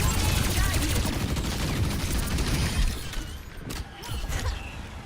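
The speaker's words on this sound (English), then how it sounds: "Nano grenades, ladies and gentlemen." Nano grenades go off in a video game, a dense, loud barrage of rapid blasts and crackling shatter that thins out partway through before flaring again.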